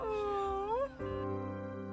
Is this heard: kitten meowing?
yes